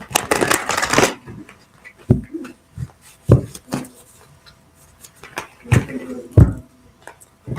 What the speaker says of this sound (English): let's just pull 3 cards